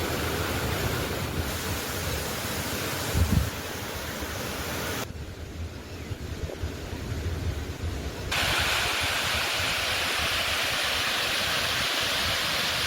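Monsoon flood water rushes through normally dry rivers below a dam, a constant broad roar that dips and returns between shots, with no voices.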